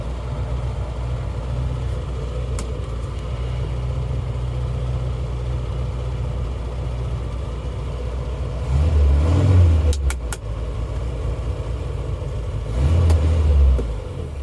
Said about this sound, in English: We've got the engine running, temperature's going up.